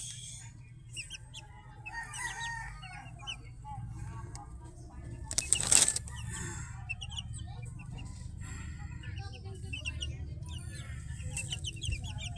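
Gamecock chickens raised for fighting cluck steadily across a breeding yard, with scattered bird calls over a low constant background and voices briefly audible.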